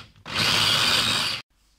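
A food processor chops onion, parsley and eggs in one loud, steady motor whir of just over a second, starting and stopping abruptly, with no talking.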